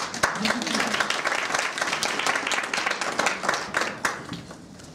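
Audience clapping and applause welcoming a speaker to a stand-up corporate presentation session, steady and sustained, fading slightly toward the end.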